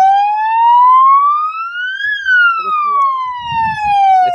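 A police-style siren fitted to a pharmaceutical company worker's car gives a loud, close wail that rises in pitch for about two seconds and then falls, with faint voices briefly under the end.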